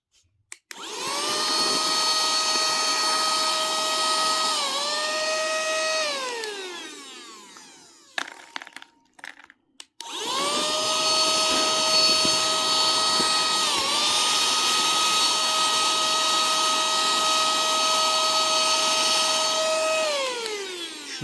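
A 7-in-1 rechargeable cordless two-function handheld vacuum cleaner runs with a loud, steady high-pitched whine, its pitch shifting as it works, stopping briefly midway amid handling clicks, then running again.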